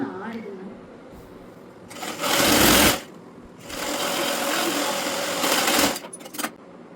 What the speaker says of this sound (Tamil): நான் நார்மல் சும்மா நார்மல் பேண்ட்டு தான் நான் ஸ்டிச் பண்ணிகிட்ருக்கேன்